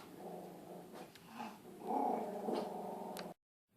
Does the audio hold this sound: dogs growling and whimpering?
yes